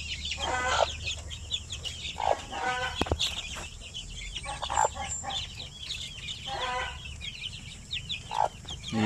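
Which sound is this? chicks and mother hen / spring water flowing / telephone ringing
chicks and mother hen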